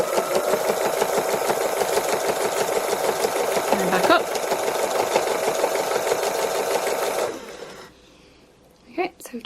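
Domestic sewing machine stitching free motion embroidery on fabric, a fast steady mechanical chatter running continuously, then stopping, with brief quiet handling noises at the end.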